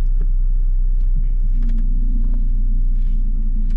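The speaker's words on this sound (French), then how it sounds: "la première chose qu'on peut constater sur cette voiture, c'est le niveau sonore certain et la vibration que procure ce moteur" Inside a 1992 Renault 21 Manager turbo diesel, the engine drones as a loud, steady low rumble with constant vibration, a few faint clicks and rattles over it, no voices.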